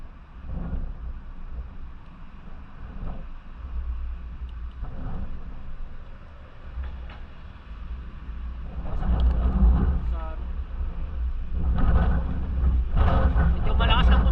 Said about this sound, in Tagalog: Medyo malakas lang po talaga yung hangin mga toto.